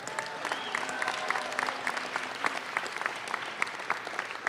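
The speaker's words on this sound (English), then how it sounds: "How about a round of applause for all of them?" An audience applauds steadily at a Green Bay Packers event, a dense patter of clapping heard at moderate distance, continuous for several seconds without voices rising above it.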